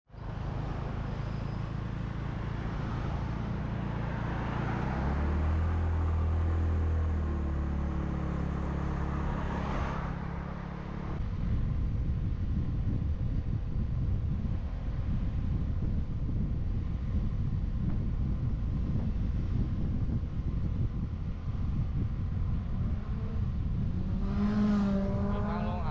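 A motorbike ridden along a rural road to Ban Mae Nam after leaving a petrol station gives a steady engine drone with heavy wind buffeting on the microphone, continuous and loud throughout.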